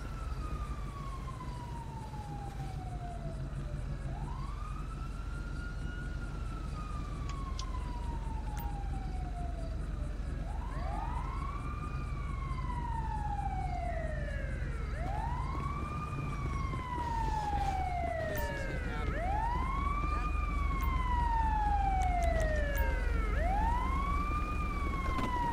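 A wailing ambulance siren in a police video game sweeps up and down repeatedly, growing busier with overlapping wails, over a steady low engine rumble.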